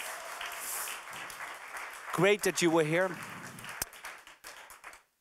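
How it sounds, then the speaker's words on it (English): Audience applause for startups at a pitch competition fades under a host's voice, with a loud clapping burst at the start and the crowd thinning to scattered claps as he speaks. "Please come on give them one last round of applause,"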